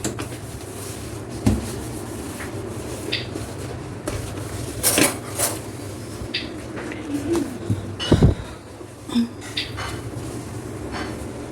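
Pots, pans and utensils clatter and clink close by while a kitchen stove is cleaned, in scattered irregular knocks, with faint background noise and a possible distant bird cooing.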